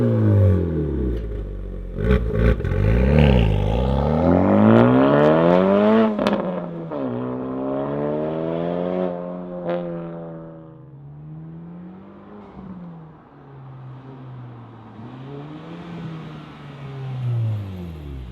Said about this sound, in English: we have a catback exhaust system, that Borla attack system. Let's fire up Nick's Type R and hear what it sounds like.